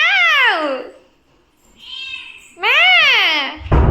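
A cat meows twice in a wet outdoor setting, two loud, close, drawn-out calls separated by a quieter pause, with a brief thump at the end.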